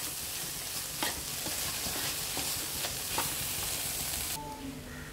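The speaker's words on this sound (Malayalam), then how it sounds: "നന്നായി ഇതൊന്ന് മിക്സ് ചെയ്യണം." Scrambled egg and bread stirred in a sizzling frying pan, a spatula scraping repeatedly over continuous frying hiss, close up with no voices.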